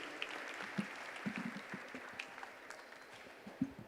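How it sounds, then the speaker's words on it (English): An audience at a blockchain convention startup battle applauds a team, faint scattered clapping from a distance with a few louder individual claps standing out. "Big round of applause for Team Chronicle"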